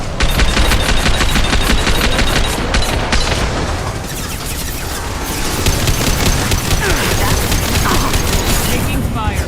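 Rapid automatic gunfire in the shooter game Mass Effect 2 rattles in long, fast bursts with a brief lull midway, loud and close, with voices shouting over it.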